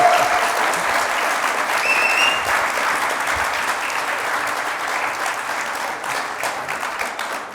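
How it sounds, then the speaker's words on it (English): An audience gives a speaker a loud, sustained welcome, with dense clapping across the whole stretch and a few whistles near the start, fading slightly toward the end. "give a loud and rather deafening welcome to Mr. Ross Halfin."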